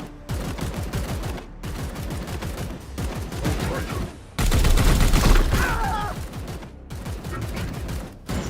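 Heavy automatic fire from the Chaos Gate game rattles in long, rapid bursts of closely spaced shots, loud and near, with a brief pause before a denser, louder stretch of fire.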